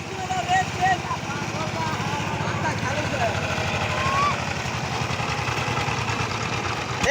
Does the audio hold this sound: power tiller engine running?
yes